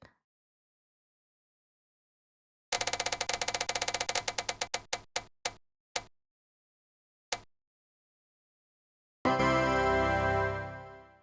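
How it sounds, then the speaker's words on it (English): A prize spinner wheel is set spinning by hand, giving a dense run of rapid clicks that slows into widely spaced single ticks and stops, then a burst of other noise follows near the end. "let's spin the wheel and see what we get"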